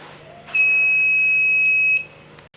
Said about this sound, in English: We are going to test the buzzer whether it is working or not.